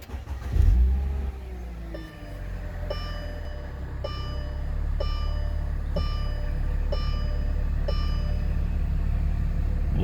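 A Mercedes-Benz W220 engine cranks briefly and catches, then settles into a steady idle close by, with a faint repeating electrical tick or click running over it.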